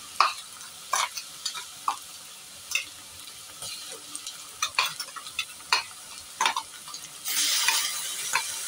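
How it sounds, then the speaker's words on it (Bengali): Chopped onion frying in hot oil in a pan, with a steady sizzle broken by repeated sharp clicks and scrapes of a stirring utensil, close and fairly loud, swelling into a louder burst of sizzling near the end. "দেখো তেলটা গরম হয়ে গেছে, আমি এর মধ্যে দেব পেঁয়াজ কুচি।"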